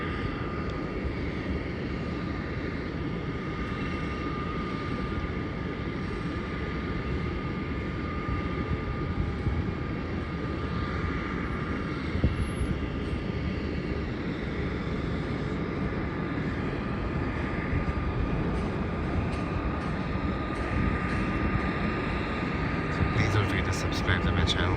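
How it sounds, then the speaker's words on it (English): A Virgin Australia Boeing 737 airliner just landed from Sydney, its engines whining in a steady, sustained drone with a faint tonal hum, moderately loud and continuous, rising slightly at the end. "that is a Virgin Australia Boeing 737"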